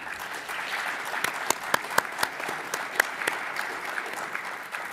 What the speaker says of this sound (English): If we could give our panel a round of applause, please.